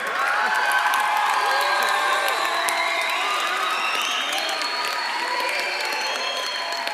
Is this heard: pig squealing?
no